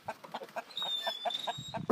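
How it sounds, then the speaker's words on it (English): A rooster clucks inside an RV in a quick run of short, close clucks at a steady pace, with a faint high whine running beneath them. "I gotta get this rooster to stop walking in the RV."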